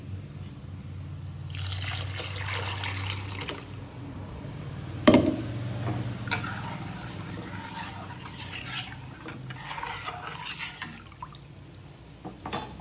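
A ground mixture pours from a mixer jar into a pot of holige saaru, making a soft wet trickling and sloshing with scraping and clinks. One louder knock sounds midway over a low background hum.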